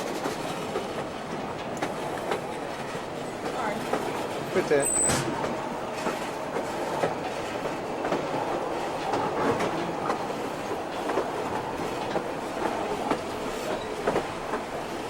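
Passenger train riding through British Columbia, with steady broadband rumble and faint clickety-clack of wheels on rails throughout, and a brief speaking voice over the noise.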